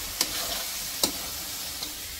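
Bottle gourd curry frying in a pan, with a steady close sizzle and a few sharp clicks of the spoon scraping as it is stirred.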